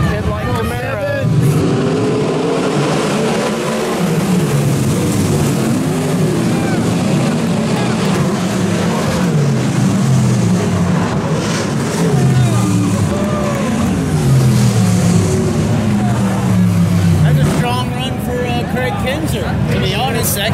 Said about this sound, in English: 900 horsepower, real race cars, not sedans or fake headlight Camaros